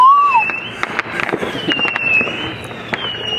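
Backyard fireworks bursting with sharp cracks and pops, joined by a whistling rocket, close and loud, with shouting voices mixed in.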